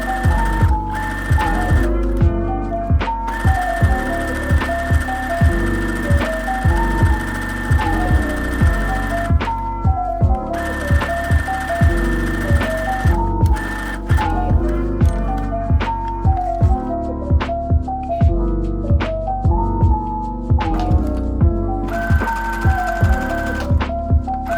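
Close, loud, steady sewing machine stitching two fabric bucket-bag pocket pieces together, a continuous rhythmic mechanical whir with a few brief stops and restarts.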